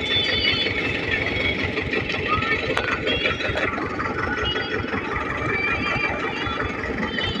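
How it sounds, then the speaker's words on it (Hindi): Tractor engines rumble steadily at idle in an outdoor setting where bamboo is being pulled out of the ground, a continuous loud mechanical drone with a couple of brief sharp knocks partway through. "ये देखिए सब ट्रैक्टर लगे हुए हैं।"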